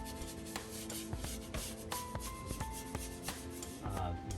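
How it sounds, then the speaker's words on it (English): The rough outer side of a sponge scrubs against the edge of a drywall patch on a textured wall, making repeated close, raspy strokes in an uneven rhythm, with no talking. "I'm actually going to use the outer rougher part of my sponge. I'm just going to hit that."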